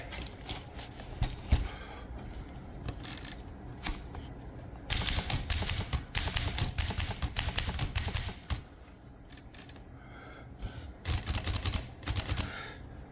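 A Smith Corona Skyriter portable typewriter, removed from its body for shift adjustment, clatters with rapid irregular keystrokes and mechanical clacks in uneven bursts, fairly close, no talking.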